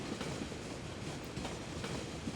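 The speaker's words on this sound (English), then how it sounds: "we'll may as well carry on with our train ride up to the castle golf course" A train in the city-building game Cities: Skylines rolls steadily along snowy rails toward a castle golf course, a continuous broadband rumble with soft repeating clickety-clack of wheels over track joints, no voices.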